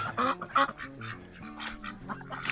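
Several nasal, honking quacks close by, with a couple of loud calls early on followed by softer, scattered calls.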